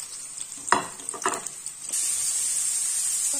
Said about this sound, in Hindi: अभी जो सारी वेजीज हैं हम इसे डाल के अच्छे से इसमें फ्राई कर लेंगे।